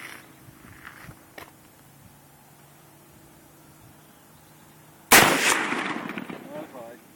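A single AR-15 rifle shot cracks out loudly outdoors at a target on the ground, a sharp blast that rings and echoes away, preceded by several seconds of quiet outdoor ambience.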